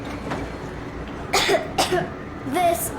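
Three short coughs ring out over a steady low background hum in the video game Metro Exodus, fairly close and distinct, with faint voices underneath.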